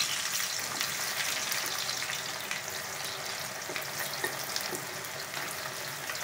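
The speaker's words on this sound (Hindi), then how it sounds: "गैस पे एक कढ़ाई में मैंने 100 ग्राम तेल गरम करने रख दिया है जो अच्छे से गरम हो चुका है, जिसमें हम प्याज ऐड करेंगे" Onions frying in about 100 grams of hot oil in a gas-heated wok, a steady close sizzle and crackle running unbroken throughout with no talk.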